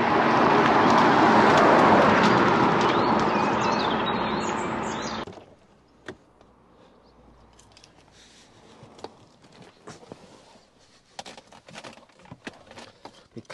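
An Aston Martin DB9 with a V12 engine drives along, its loud, steady road and engine roar filling the first few seconds. It then cuts to near quiet with scattered faint ticks and small sounds.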